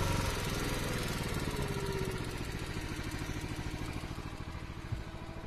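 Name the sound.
log splitter engine throttled down to idle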